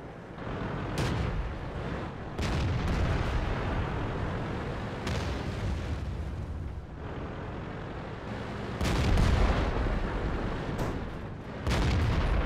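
Tank gunfire in the World of Tanks video game: loud, booming cannon shots and explosions crack out repeatedly over a dense, continuous rumble of battle noise and engine drone, with no talking.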